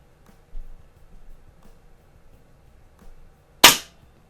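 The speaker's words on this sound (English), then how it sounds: "5 shots from each one, and may the best gun win." A Beeman 2027 or Crosman 781 PCP air rifle fires a single sharp, loud pellet shot near the end, preceded by a few faint mechanical clicks in an otherwise quiet setting.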